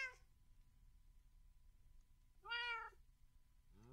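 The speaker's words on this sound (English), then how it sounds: "There's a cat." A cat meows once in a video game set near a tower and village, a short clear mew rising and falling above a steady low background hum, with a second meow beginning at the very end.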